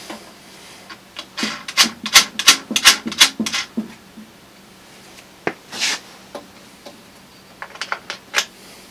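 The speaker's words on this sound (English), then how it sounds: "Makes it kind of easy to find these studs and put the knobs on." Plastic knobs being screwed onto studs of a router table dust box mounted in the wing of a Ridgid R4512 table saw: close bursts of rapid rubbing and ratcheting scrapes, then scattered clicks and handling.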